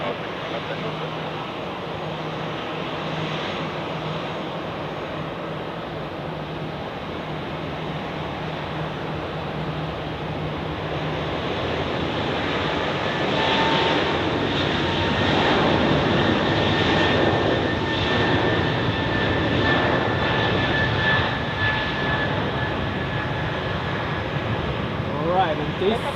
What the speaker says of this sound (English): This Swiss A320 marks the beginning of the outbound rush